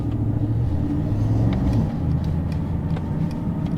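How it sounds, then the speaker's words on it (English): A Mercedes AMG GT 63 S E Performance engine starts up while parked and settles into a loud, close, continuous low rumble with a slight rise in revs. "if I hit it too much, the engine activates."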